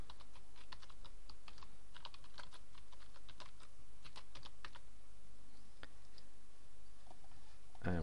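Rapid keyboard typing while user details are entered into a WordPress form, a close, quiet patter of key clicks in uneven bursts, thinning out toward the end.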